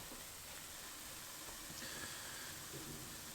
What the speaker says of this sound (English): Fried pickles, hear that sizzle?